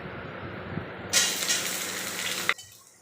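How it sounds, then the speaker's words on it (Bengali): Chopped onions hit hot refined oil with bay leaf, cumin and garam masala, and a sudden bright sizzle jumps up that holds steadily for over a second before cutting off abruptly. "এবারে দিয়ে দিচ্ছি কুচিয়ে রাখা পেঁয়াজ"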